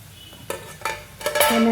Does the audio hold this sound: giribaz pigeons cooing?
no